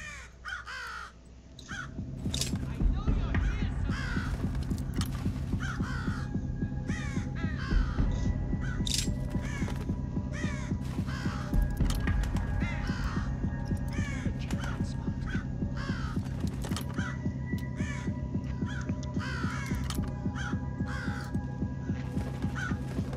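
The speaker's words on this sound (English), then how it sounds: "You shut up, you stupid bird." A crow in the video game Thief caws repeatedly over a pulsing, heartbeat-like throb and droning game music, the harsh calls recurring through a tense, steady rhythm.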